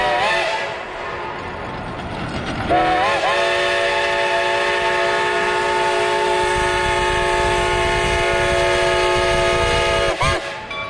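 A Shay geared steam locomotive, number 11, at Cass Scenic Railroad sounds a long, loud multi-tone whistle over a continuous chuffing rumble, close by.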